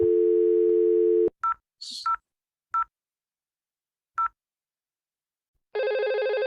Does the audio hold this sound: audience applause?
no